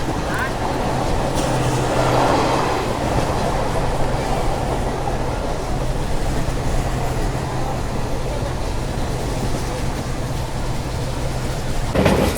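The 17641 Narkher Intercity Express, running from Kacheguda to Hazur Sahib Nanded, rolls along the track with a loud, steady, close rumble that holds unbroken from start to finish.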